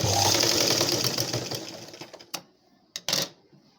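A sewing machine stitches blouse fabric with a close, steady whirring run that fades out after about two seconds. A few sharp clicks and taps from the machine follow.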